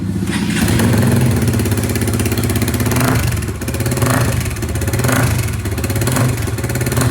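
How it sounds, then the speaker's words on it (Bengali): A motorcycle fitted with a newly installed aftermarket exhaust revs loudly and continuously up close, its deep throbbing roar rising and falling in repeated pulls of the throttle. "একজস্টার প্রপার লাগানোর পরে জাস্ট সাউন্ডটা শোনার অপেক্ষায় ছিলাম অ্যান্ড শোনেন"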